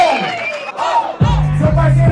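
Crowd at a street rap battle whooping and cheering, with shouted voices rising and then a loud burst of massed yelling and clapping near the middle.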